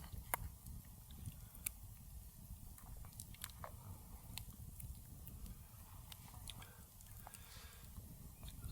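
Campfire chili eaten from a mug with a spoon outdoors, with soft repeated chewing and spoon clicks under a steady low outdoor rumble, fairly quiet and continuous.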